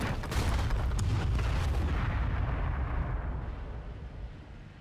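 Artillery firing in the war strategy game Men of War: Assault Squad 2, a dense, continuous rumble of heavy booms and blasts that stays loud for several seconds before slowly fading.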